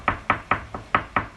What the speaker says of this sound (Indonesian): lanjutkan mengetuk dengan tangan kiri.